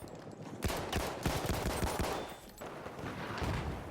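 An M1917 select-fire carbine in Battlefield 5 fires rapid automatic bursts after a short quiet start, loud sharp cracks in quick strings separated by short pauses.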